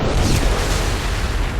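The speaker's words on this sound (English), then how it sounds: "Setting off a nuclear explosion in the ship" A loud, sustained rumbling explosion fills the space aboard a ship in Mass Effect 2, a dense roaring blast with a heavy low boom and no voices over it.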